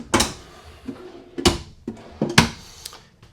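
Camper kitchen drawers sliding open and shut, several sharp wooden-sounding knocks and thuds spaced about a second apart, close by, with quieter rumbling slides between them.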